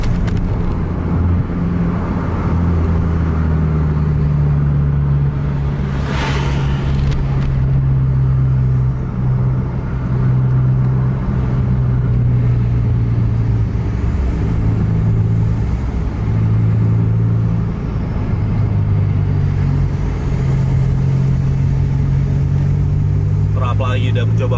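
Buses jostling through a traffic jam on a road shoulder with dirt instead of asphalt give off a steady low engine rumble, with mid-range motor drone and occasional revving swells running throughout.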